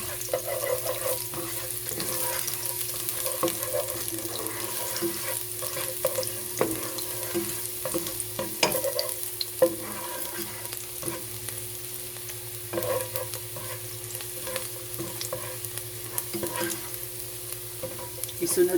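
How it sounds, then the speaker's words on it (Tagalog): Garlic frying in oil in a cooking pot for chicken afritada, a continuous crackling sizzle with occasional stirring clatters, steady and close throughout. "naglagay na po ako ng oil sa ating cooking pot. So pwede na po nating ilagay ang ating bawang."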